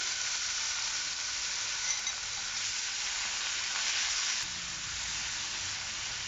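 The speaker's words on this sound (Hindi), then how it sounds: "अब इसमें मैरिनेट किया हुआ चिकन ऐड कर देंगे।" Marinated chicken frying in hot oil in a pan over a medium flame, a loud, steady, dense sizzle filling the whole stretch without a break.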